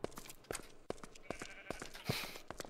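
Several short sheep bleats from animals in the RLCraft modded Minecraft game, repeating in an irregular rhythm at fairly close range with no talk over them.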